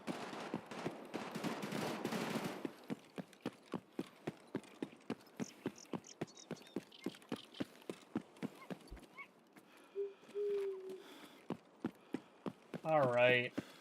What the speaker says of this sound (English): I'm hearing gunshots from a couple of different places.